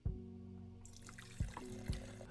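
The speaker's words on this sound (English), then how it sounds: "Theo strides over to the sink and starts to fill the little elephant with water." Tap water runs into an elephant-shaped watering can at a sink, a steady filling rush with a few clunks and splashes as the can shifts beneath the faucet.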